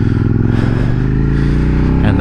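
A 2019 Suzuki SV650X with its 650 cc V-twin engine drones loudly while being ridden, a steady low throbbing hum with harmonic layers that rise slightly toward the end, wind rush over it, and a rider talking throughout.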